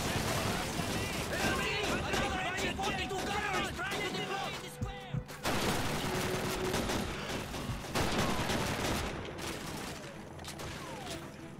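Rapid gunfire in Call of Duty 2's Soviet campaign at Fortress Stalingrad: dense, loud bursts and machine-gun fusillades continue almost nonstop, with a brief lull midway, under voices.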